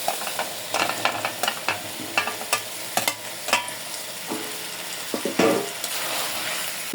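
Cauliflower and potato sizzling in a pan amid repeated scraping and clinking of a spatula stirring, a busy irregular rhythm up close.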